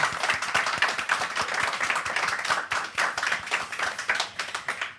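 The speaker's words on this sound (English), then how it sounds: "We can have a round of applause." A crowd claps steadily for several seconds, a dense run of sharp hand claps at even volume before tapering slightly at the end.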